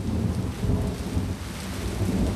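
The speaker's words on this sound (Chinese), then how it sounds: "外面下着大雨呢" Heavy rain pours down outside amid a low, rolling thunder rumble, a dense continuous roar that stays loud throughout with no voices heard.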